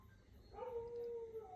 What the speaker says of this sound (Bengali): ওইদিকে কুকুর মনে হয় কান্না করতেছে।